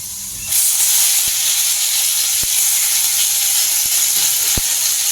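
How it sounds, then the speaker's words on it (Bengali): A steady, loud hiss of curry leaves frying in hot oil with lentils rises suddenly after a short pause and continues evenly, with a few faint clicks. "কারি পাতাটাও দিয়ে দেবো, সবগুলোই ভাজা হয়ে যাবে।"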